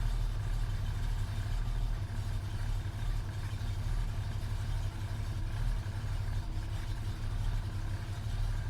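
Engine fitted with a Holley Sniper 2300 and a venturi restrictor plate idling steadily, a continuous low rumble with an even pulse, close and unbroken, with no talk.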